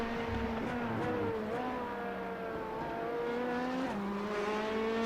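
Prototype and GTD race cars lap the Daytona road course in iRacing, engines droning and shifting pitch as they brake, downshift and accelerate, several cars close together with a steady, loud roar throughout.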